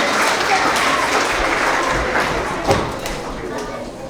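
Applause from an audience at a kindergarten to second grade school award assembly, honoring the second grade Tigers of the quarter: a steady, dense wash of clapping that carries through the whole stretch, with a voice speaking over it.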